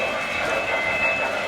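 MTH Pennsylvania model trains run on track with a steady rolling rumble and faint clicking, continuous and close.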